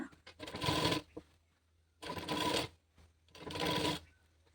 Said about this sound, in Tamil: இப்போ நான் மறுபடியும் ஸ்லீவை திருப்பி இன்னொரு தையல் போட்டுக்கிறேன்